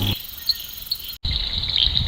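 Frogs calling in the monsoon season: a steady, shrill trilling chorus with repeated chirps that carries on alone and drops out briefly partway through.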